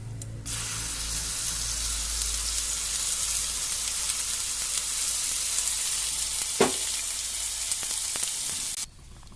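Continuous loud hiss of onion chutney frying in a hot pan after asafoetida, holding steady for several seconds with a brief scrape partway, then cutting off abruptly.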